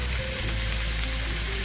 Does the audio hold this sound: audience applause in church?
no